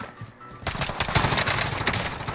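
Rapid automatic gunfire in Warzone breaks out after a short quiet moment, then continues as a loud, dense burst of shots with no talking.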